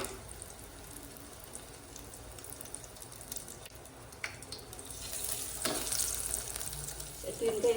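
Oil sizzles and crackles steadily as onion rings fry in a pan, growing louder and busier toward the end, with light stirring close by.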